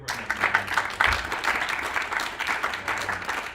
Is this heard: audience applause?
yes